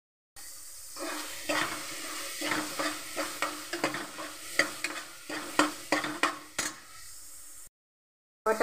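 Spiced peas fry in a pan, a loud close sizzle broken by repeated rhythmic scraping strokes of stirring, stopping abruptly near the end.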